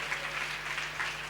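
A church congregation claps during a Sunday service, with steady, dense applause at moderate volume that swells in soft waves and has no speech over it.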